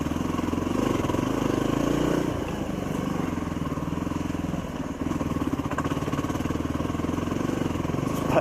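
A motorcycle chugs up a hill in second gear on an Alaskan trail, its engine loud and close with a steady, throbbing low-gear pulse that dips briefly partway through, then resumes its climb.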